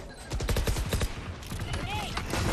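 Rapid rifle gunfire from the shooter Valorant during a professional esports match, a quick burst of shots under excited commentary, with further game effects and a rising ability tone near the end.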